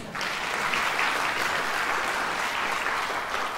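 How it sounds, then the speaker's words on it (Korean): Steady, full applause from a concert audience at a handbell choir performance, even and sustained from start to finish without a break. "이성덕 집사님 박수 한번."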